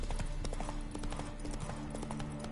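The horse Roach clops on hooves in The Witcher 3, a quick, steady run of hoofbeats at close range over a constant low ambient drone.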